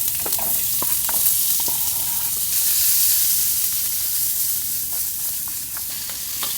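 Mushrooms, garlic and onion frying in oil over a folding woodstove in a winter camping tent, a steady loud sizzle with occasional stirring scrapes and pops throughout, close and continuous.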